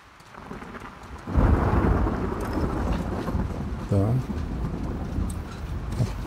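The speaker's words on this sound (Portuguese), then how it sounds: "O barulho da chuva caindo no telhado." Steady rain and rolling thunder in The Last of Us Part II, the downpour drumming on a roof with a loud swell of thunder partway through, while someone talks over it.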